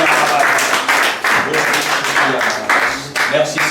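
A church congregation applauds and cheers for the Lord during a French-language worship service, loud continuous clapping with raised voices mixed in, filling the room throughout.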